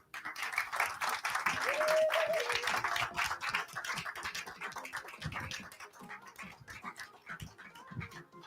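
Applause from an audience greets a contestant at a live final show, a broad, moderately loud wash of clapping that peaks early and gradually thins, with scattered cheers and faint voices beneath.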